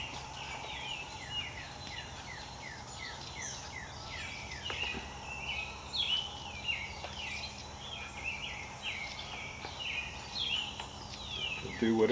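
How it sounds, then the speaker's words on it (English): Many birds chirp and call in the background outdoors, a busy overlapping chorus of short descending notes with a faint voice now and then. "You can hear all the birds in the background."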